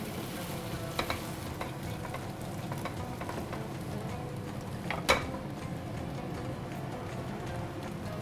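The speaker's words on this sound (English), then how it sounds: "Make sure that you stir your fried rice in properly." Fried rice stirred in a pan, with a steady soft sizzle under scattered scraping and clinking of the utensil against the pan, including one sharper knock partway through, fairly quiet throughout.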